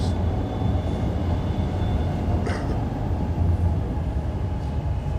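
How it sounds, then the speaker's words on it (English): A loud train passes close by, a continuous heavy rumble and rattle of rail cars that fills the whole stretch, with faint squeals riding on top and no voices heard. "that train"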